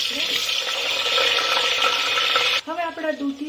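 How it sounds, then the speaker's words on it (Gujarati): Bottle gourd pieces sauté in a pan, making a continuous hissing sizzle with stirring scrapes that cuts off abruptly near the end, when a voice briefly speaks. "હવે આપણા દૂધી થોડીક સંતળાઈ ગઈ છે"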